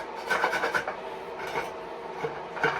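Long rasp filing inside the bore of a bamboo jinashi nobekan flute, worked in through the top end, giving repeated rough scraping strokes, close and moderately loud with short pauses between passes.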